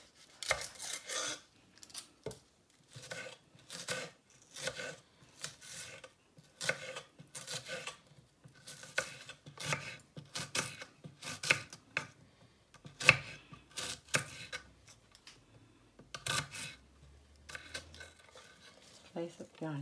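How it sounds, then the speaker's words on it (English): Onions being cut with a knife, a series of quiet, rhythmic strokes in bursts with short pauses between, close and fairly faint. "So you cut up your 2 onions."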